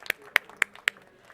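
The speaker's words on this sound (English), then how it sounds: "I want to give everyone a round of applause" Applause begins at a conservation initiative launch during a UN biodiversity conference, heard as four sharp, evenly spaced claps, close and crisp, with no other sound between them.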